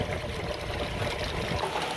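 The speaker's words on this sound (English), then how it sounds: "They drain all the water out." Water trickles and pours steadily as it drains out of bags of Tennessee River catfish fillets, a continuous close splashing dribble with no voices.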